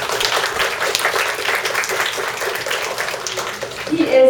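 A festival audience applauds a guest with a dense, steady wash of clapping that holds throughout and swells slightly at the end.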